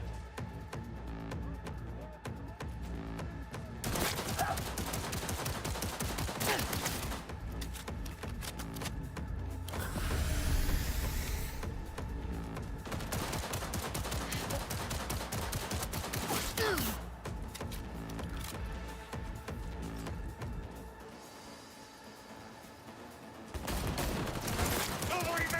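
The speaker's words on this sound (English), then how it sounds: "Oh, it's an automatic pistol." Automatic pistol in a video game letting off rapid bursts of shots again and again, crisp and fairly loud, with a short lull near the end and speech now and then.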